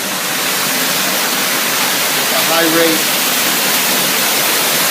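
Backwash at a water treatment plant, with wash water rushing through mixed media filters: a steady broadband roar fills the whole clip and someone talks briefly over it.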